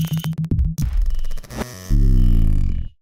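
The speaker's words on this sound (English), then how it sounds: "That's the sound of the radio turning on." A TYT MD380 DMR handheld radio powers on with a loud, close burst of electronic tones and buzzing, ending in a sustained rising chirp-like tone that lasts about a second before cutting off.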